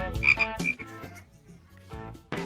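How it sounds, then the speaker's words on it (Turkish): Frog croaks in a video game inside a 1000-keys challenge, a run of several throaty croaks with a bright tonal squeak, pausing midway before a final croak, loud and alone with no talk. "Bir kurbağa mı?"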